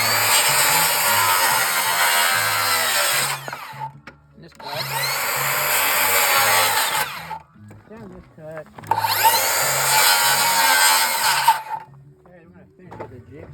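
Wooden rafter being cut with a saw on a work table, three long bursts of steady rasping strokes separated by short pauses, close and loud, with a low background hum and some shuffling between cuts.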